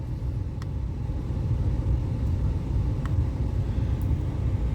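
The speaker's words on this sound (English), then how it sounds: "as soon as I go to turn on the diesel heater" A diesel heater in a van with a faulty glow plug starts up on a cold winter day, giving a steady low rumble with a few faint, sparse ticks on top.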